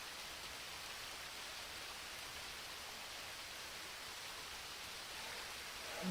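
Steady rain hisses evenly in the GTA RP video game, a continuous broadband wash of falling drops with no voices over it, swelling slightly louder at the very end.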